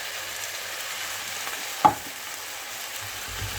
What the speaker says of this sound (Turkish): Havucum birazcık sotelendi. Birazcık soğanım da sotelensin.